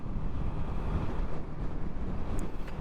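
Strong wind buffets the microphone beside a riverside road under a bridge in Taiwan, a steady loud roar and rumble with no pauses and no talking.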